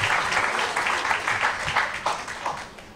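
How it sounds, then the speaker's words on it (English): At a customs training closing ceremony, an audience claps for a top-scoring participant in a short, dense burst of applause that carries at steady volume for about three seconds, with no one speaking over it. "Let's give her a round of applause."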